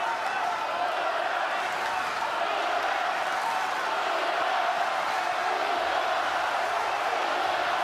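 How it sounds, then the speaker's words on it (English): A tennis crowd at the 2022 WTA final in Ostrava roars steadily for the whole stretch, a dense, loud wall of cheering and shouting as spectators urge on their player. "Crowd desperately urging on their player"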